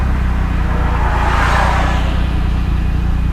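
Steady car engine and road drone from inside a moving car, a continuous loud rumble with a mild swell around the middle and no talking.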